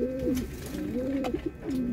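Soft, rolling pigeon coos repeat in a steady rhythm, several low throaty calls close by with a faint background hiss.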